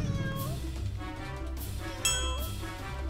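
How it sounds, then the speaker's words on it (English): Several cats meow in the Spinster cat lady video game, short rising mews repeating over a layer of game music with bright chimes, fairly quiet and with no talking. "You cats need to learn how to fend for yourselves."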